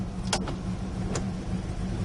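A 1969 Plymouth Road Runner engine idles just after starting, a steady low rumble heard alone with a couple of brief clicks over it.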